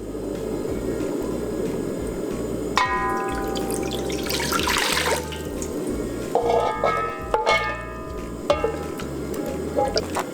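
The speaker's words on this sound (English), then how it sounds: "we're gonna add in our water, chicken, and our sauce that we just made" Water poured into a large pot on high heat for Korean spicy braised chicken, a sustained watery rush with clinks and splashes, close, over a steady low hum.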